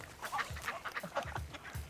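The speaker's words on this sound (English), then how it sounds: "do you hear somebody quacking?" Three ducklings quack and honk in quick, irregular bursts, fairly near and moderately loud, with no talking over them.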